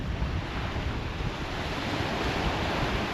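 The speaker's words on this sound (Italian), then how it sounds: "Guardate che mare che c'è, uno spettacolo." Sea waves roll onto the shore in a continuous, loud roar, with wind buffeting the microphone throughout. No voices are heard.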